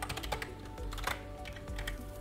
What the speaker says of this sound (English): So for the mute button, let's type